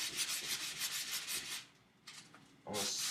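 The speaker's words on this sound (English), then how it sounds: "I'm going to sand it by hand, just to round it off a bit." Sandpaper is rubbed by hand along a wooden wand to round it off, producing rhythmic, raspy strokes up close. The strokes pause briefly partway through, then resume.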